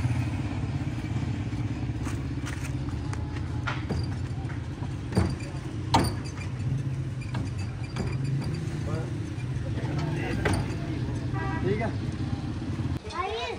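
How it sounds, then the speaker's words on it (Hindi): Auto rickshaw arriving in a village loaded with goods, a steady low engine drone running throughout with scattered clatter and knocks, while people talk over it. "लें जी रिक्शे वाले भाई जो है वह सामान लेके पहुंच चुके हैं"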